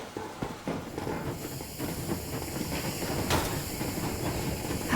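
The Aurora steam train rolls along in Metro Exodus with a continuous rumbling, clattering ride noise and hissing, steady and fairly close with no voices.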